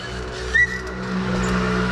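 Steady drone of a Stage6 MK2 Sport air-cooled hybrid scooter engine, running loud and close with a constant low hum and a brief higher rise partway through.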